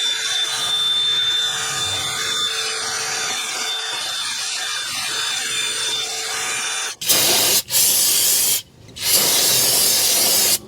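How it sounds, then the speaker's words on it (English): A wire wheel scrubs a Lexus RX300 front brake hub clean, producing a harsh, steady grinding hiss that carries on for several seconds. After that come a few short bursts separated by brief pauses, with no speech. "I'm going to clean this up with a wire wheel"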